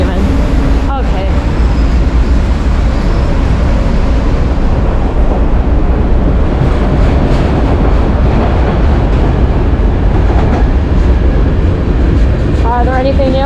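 A commuter train pulls out of a station on a rail line in Lakewood, Ohio, producing a steady, loud rumble of wheels and engine that runs throughout, with a faint voice near the end.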